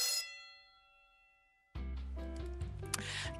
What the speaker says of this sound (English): I need to ring the dinner bell